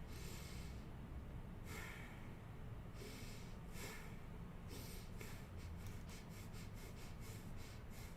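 Deep breaths during a new moon stress relief ritual come as faint, close airy bursts, slow and spaced at first, then quicker and shorter toward the end.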